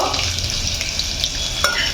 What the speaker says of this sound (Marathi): आता हे सर्व आपल्याला छान असं हे मिक्स करून फ्राय करून घ्यायचं आहे तेलामध्ये